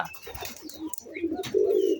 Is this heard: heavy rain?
no